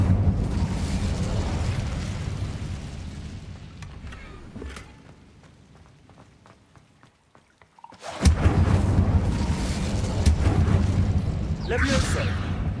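A fire spell erupts in Hogwarts Legacy with a deep rumbling whoosh, loud and close, fading into a quieter stretch before a second burst of roaring flame and crackle returns.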